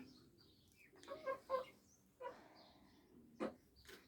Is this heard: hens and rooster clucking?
yes